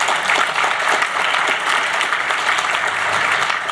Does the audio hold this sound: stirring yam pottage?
no